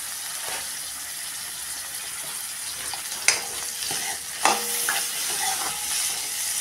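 Bitter gourd pieces sautéing with onion in a pan, a steady broadband sizzle with a few sharp clinks and scrapes of a spoon stirring, close and fairly loud, with no talking.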